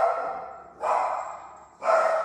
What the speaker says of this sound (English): so now my dog wants to go crazy